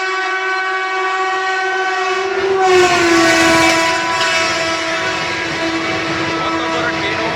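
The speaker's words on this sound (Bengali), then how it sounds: "এই তো ট্রেনটা আইতেছে" A train runs along railway tracks at evening, its loud, sustained horn blaring close by over a heavy rolling rumble that swells as it passes.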